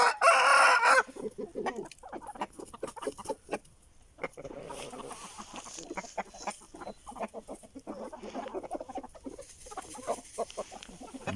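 A loud rooster crow opens, followed by steady clucking and chatter from several hens nearby, continuing throughout; Aseel chickens.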